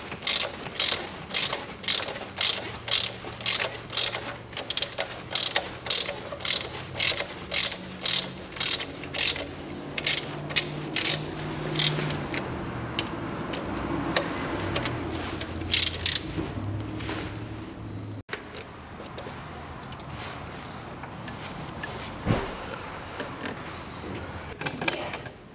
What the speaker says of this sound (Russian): Откручиваем болты на 8.